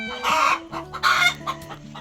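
Hens cluck loudly and repeatedly up close in a backyard coop near their nests, giving two bursts of agitated squawking calls with shorter clucks between them, and no talking over the birds.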